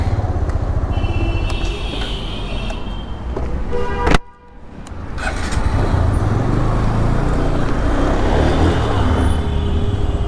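Dense road traffic rumbles around a rider on an Apache 180 motorcycle, a steady loud wash of engines with a brief dropout midway before the noise returns at full level.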